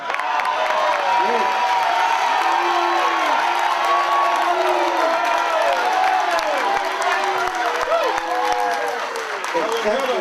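A debate audience cheers, claps and shouts in a loud, sustained roar of overlapping voices and whoops that carries on without a break.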